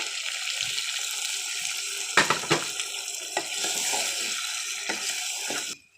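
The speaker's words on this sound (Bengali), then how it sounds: "এখন আমি সামান্য একটু জল দিয়ে দেবো, দিয়ে ভালো করে কষিয়ে নেব।" Water splashing into a pan of potol chingri, a Bengali pointed gourd and prawn curry, over a steady hiss with a few sharp spoon clatters and stirring knocks, ending abruptly.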